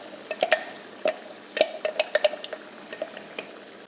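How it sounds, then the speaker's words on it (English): A spoon stirs casserole ingredients with broth and tomato puree in a pot, giving irregular scraping clinks against the pot over a faint background hiss, with no voices. "Now I'm gonna stir all of this together."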